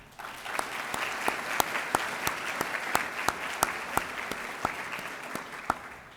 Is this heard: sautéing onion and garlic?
no